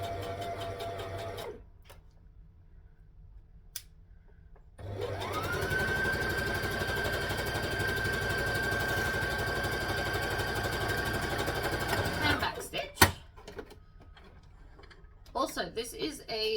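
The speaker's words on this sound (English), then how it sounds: "So we're going to stitch and back stitch." Polyester thread runs through a sewing machine that stitches forward and then back-stitches, with a steady close mechanical whir lasting about seven seconds before stopping, preceded by quieter motor hum and followed by a sharp clack and light handling noises.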